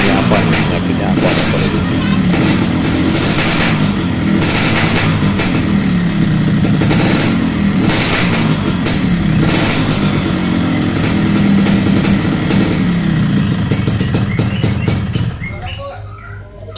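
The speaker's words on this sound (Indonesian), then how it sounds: "Kalau mesin udah panas, gas naik sendiri, RPM naik sendiri." A Yamaha RX King motorcycle engine with a fault that makes its revs climb by themselves once hot runs loud and steady at high RPM, then drops off near the end.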